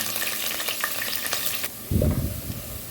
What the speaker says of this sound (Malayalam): ഓയിൽ ചൂടായി വരുമ്പോൾ കുറച്ച് കറിവേപ്പില ഇട്ട് കൊടുക്കാം. അതിൻ്റെ കൂടെ തന്നെ നമ്മൾ തയ്യാറാക്കി വെച്ച നമ്മൾ ഇഞ്ചി, പച്ചമുളക് ചതച്ചത് കൊടുക്കാം.